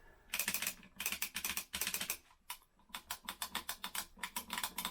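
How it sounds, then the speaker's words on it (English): A Speedlink Competition Pro joystick, used with Amiga emulation on a Raspberry Pi, gives close, crisp plastic clicks in quick bursts, rattling rapidly with short pauses between volleys. "Look, click, click, click, click, click,"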